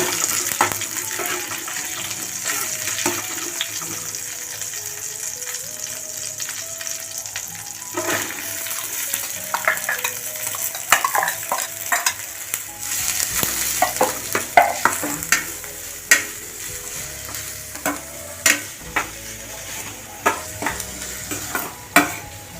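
Two large finely chopped onions sizzle and fry in a pan for paneer butter masala, with steady crackling and repeated scraping stir strokes that grow busier and louder toward the end; no talking.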